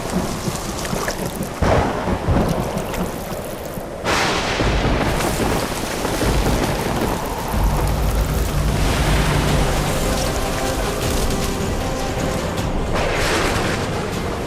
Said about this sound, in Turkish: Hava çok fena esmeye başladı